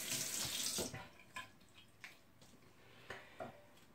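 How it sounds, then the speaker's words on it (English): Hot tap water running into a sink for rinsing the face, a steady close splash at first, then trickling off into a few drips and light knocks. "So first of all, I need hot water to rinse my face."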